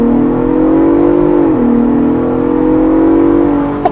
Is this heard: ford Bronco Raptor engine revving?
yes